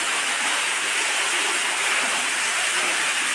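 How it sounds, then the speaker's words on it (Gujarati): Water from a newly drilled borewell on a farm gushes out in a loud, steady roar, a continuous dense rush with no pauses. "પાણી આવી ગયું છે જોરદાર"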